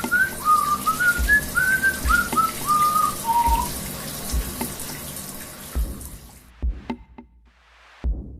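A shower runs as a steady, close rush of water, with a person whistling a wavering tune over it at first; the spray stops near the end, leaving a few drips and clatters in a quiet bathroom.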